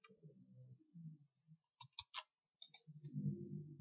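A computer mouse clicks a few times, brief dry taps bunched in the middle of a quiet stretch, between soft murmuring background sounds.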